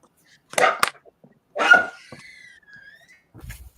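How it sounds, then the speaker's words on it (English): A small dog gives a couple of sharp barks followed by a drawn-out whine or yelp, close by, with brief pauses and a faint low noise at the end. "whose dog is that?"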